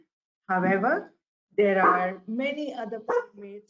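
A dog barks several times nearby in short bursts while a person talks over it.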